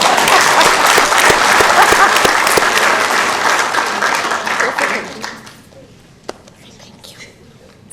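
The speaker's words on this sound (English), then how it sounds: "Another big round of applause," Audience applause in a Sacramento city council chamber, a dense steady clapping that fades out over several seconds to near quiet, with voices murmuring underneath.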